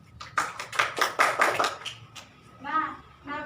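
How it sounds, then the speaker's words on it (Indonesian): Students in a classroom clap their hands in a short burst of applause lasting under two seconds, fairly close, followed by a voice speaking. "Tepuk tangannya."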